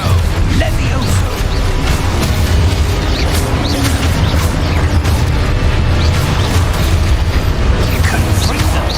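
Confringo explosion spell blasting in Hogwarts Legacy, loud continuous booming and crashing bursts layered densely over one another with no break.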